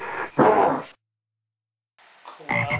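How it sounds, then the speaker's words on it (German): A toad croaks in two bursts separated by about a second of silence, the first loud and close, the second a shorter rasping call at the end. "Kröte."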